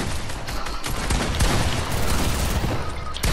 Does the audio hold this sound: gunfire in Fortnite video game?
yes